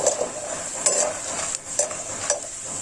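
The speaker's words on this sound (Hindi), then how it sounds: "अभी मूंगफली जो चटकने लगी है" Peanuts crackling as they fry in hot oil in a home kitchen, a constant bright sizzle with a few distinct pops and utensil clinks spaced about a second apart.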